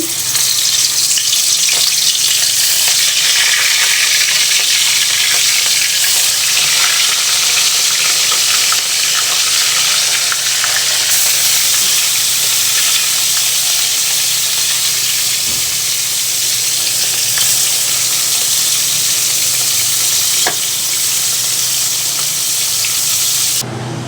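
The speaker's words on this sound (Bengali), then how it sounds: "দেখো আমার মাছ ভাজা হয়ে গেল, লাল লাল করে মাছগুলো ভেজে নিছি।" Fish pieces fry in hot oil in a kadai wok, a loud, unbroken sizzle and hiss that runs steadily for over twenty seconds with occasional crackles and no talking.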